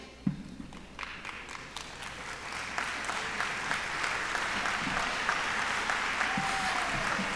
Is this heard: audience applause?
yes